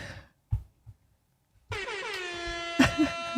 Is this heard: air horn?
yes